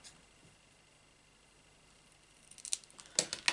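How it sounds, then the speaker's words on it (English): Scissors trimming cut-out paper circles for Christmas tags, a few crisp snipping clicks near the end after a quiet stretch, close and fairly soft. "I just use my scissors and trim them up"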